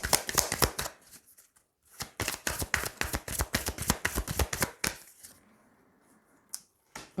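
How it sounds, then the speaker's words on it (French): Tarot cards shuffled and laid out on a table, a quick run of crisp riffling snaps and slaps close up, a short pause, then a few softer taps as cards are placed, with no talking. "On va recouvrir certaines cartes."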